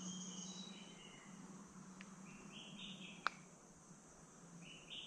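A bird calls in a forest with soft, repeated chirps and whistles over a faint insect hum, plus one sharp brief click, quiet and distant with no voices.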